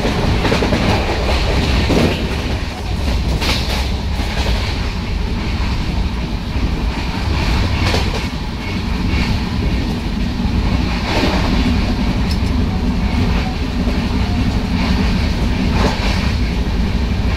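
Janshatabdi Express train running on rails heard from inside a carriage, with a continuous loud rumble and rhythmic clickety-clack of wheels over track joints, rain outside.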